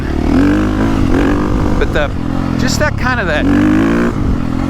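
The engine of a 2022.5 KTM 450 Factory Edition motorcycle rises and falls in revs as a steady, close mechanical drone beneath someone talking throughout.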